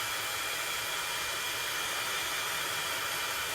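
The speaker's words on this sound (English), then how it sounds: "I'm going to just hit this just for a quick minute with the heat tool just to make sure." Heat tool blowing over a freshly stamped paper card, a loud, steady airy whoosh of hiss and fan noise that continues unbroken from start to finish, close and alone.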